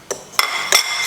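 Flour being stirred into batter for a Lithuanian cheese roll cake: three sharp, close clinks of a utensil against the bowl in quick succession over about a second, loud and without speech.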